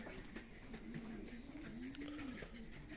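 Pigeons coo softly in a breeding loft, a single low rolling coo stretching across a few seconds, close and quiet, with faint rustling and a distant murmur of voices behind.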